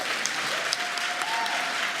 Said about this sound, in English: How about we give a round of applause?